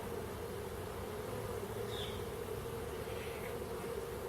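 Honey bees buzzing around a mini-nuc hive frame, a steady soft droning hum with no talk, a few individual bees passing closer now and then.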